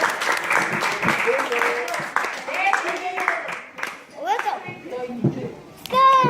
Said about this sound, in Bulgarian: моля, ръкопляскаме за Дедо!